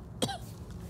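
A single short cough bursts out once in a quiet indoor room, a close, brief throaty hack that fades quickly into faint background hush.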